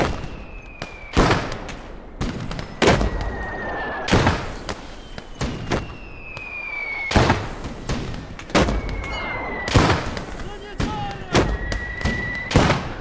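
Battle gunfire in the war game Motherland: repeated loud, sharp shots and booms at irregular intervals, some followed by whistling projectiles, with someone commentating over the fighting.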